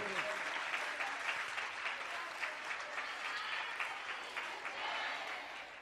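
Loud, sustained applause from a crowd welcoming a chariot procession at a Ramlila ground, dense continuous clapping close by with no pauses.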